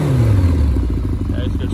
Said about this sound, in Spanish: Y vamos a acelerar la moto.